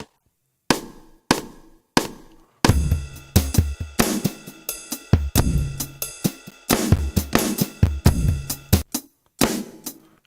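A drum kit loop plays back with punchy kick, snare and cymbal hits in a steady rhythm. A few sparse hits come first, then a dense groove, with some glitchy gaps near the end.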